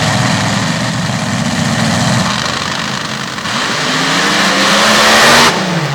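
Open paddle tire racing cars launch from the start of a sand drag strip at Transfer, Pennsylvania. The engines roar loud and close for six seconds, rising in pitch as they accelerate, then the sound cuts off sharply near the end.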